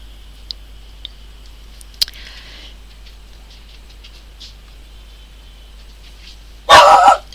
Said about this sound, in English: don't know why he's barking at all